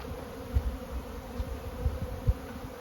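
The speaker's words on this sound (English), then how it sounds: "There's just a bunch of bees on there." A steady, low droning buzz of many honeybees around a hive close by, with a few louder swells as individual bees pass near.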